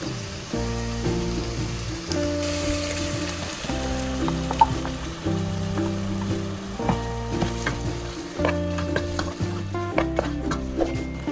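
Ground masala paste sizzles and fries in hot oil while a spoon stirs it in a pan, producing a loud, steady crackle with rhythmic scraping strokes close by and no talking.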